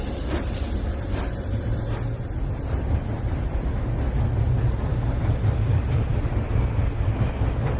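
A train rolls along the rails with a steady low rumble that swells slightly toward the end, with a constant windy roar and no voices.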